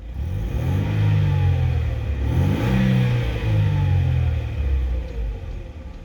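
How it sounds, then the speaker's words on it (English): A Mercedes-Benz C180 of the W202 generation, a classic low-mileage saloon, is given one quick rev from idle: the engine note climbs smoothly to a peak midway, then settles back to an even, steady idle, recorded close by with no talking. "I'll just give it a very quick rev before I get out."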